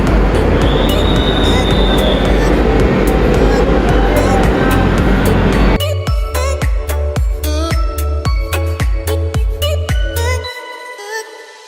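A passenger train on the Malda–Katpadi route pulls out of a junction station, first with a steady loud rumble and squeal, then a rhythmic series of wheel clacks over rail joints that fade toward the end.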